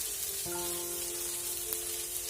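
Nigella seeds, green chillies and finely chopped potato fry in hot oil with a steady crackling sizzle, while a faint tonal hum sits underneath and one sharp pop lands near the end.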